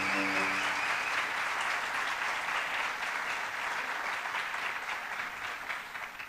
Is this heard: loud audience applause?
yes